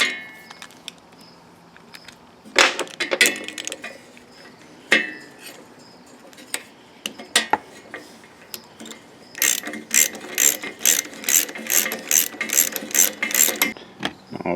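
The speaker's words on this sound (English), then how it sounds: "and then I'll put the wrench on it." Wrench ratcheting bolts down on the head of a Powermore 139cc small engine during a head gasket job, with scattered clicks first, then a steady run of rapid ratchet clicks close up, loud and alone.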